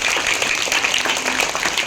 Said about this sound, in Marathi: जोरदार टाळ्या वाजवून आपण त्यांचे स्वागत करूया।